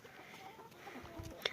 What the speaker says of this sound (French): Donc là, elles, je viens de leur donner à manger, mes 3 poules connues.